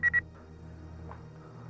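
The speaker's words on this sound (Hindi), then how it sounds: "फोन लगा" Two short electronic keypad tones sound in quick succession as a telephone is dialed during a police crime drama, followed by a quiet room hum.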